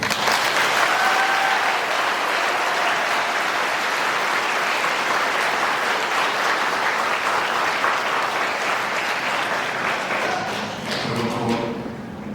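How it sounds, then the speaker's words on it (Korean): A church congregation at a Christmas Mass applauds the choir, with loud, dense, sustained clapping filling the hall for about eleven seconds before it thins into a few scattered claps at the end. "우리 성가대에서 노래 연습했으니 박수 한번 칩니다."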